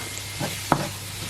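Ginger and garlic paste drop into onions frying for a chicken curry, a low steady sizzle with a soft plop and then a sharp scrape or clack of a utensil in the pan.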